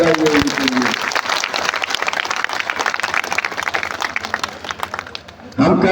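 A large rally crowd breaks into loud, sustained applause, a dense wash of clapping lasting several seconds before a speaker's amplified voice cuts back in at the end.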